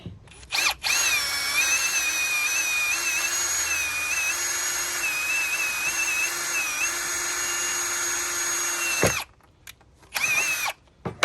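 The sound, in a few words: drilling a pilot hole for Jeep TJ grab bars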